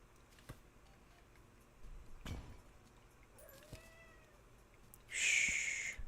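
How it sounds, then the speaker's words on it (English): Several house cats meow indoors: a few soft, brief mews followed by one louder, drawn-out cry near the end, with faint ticking in the quiet background. "My cats are all angry."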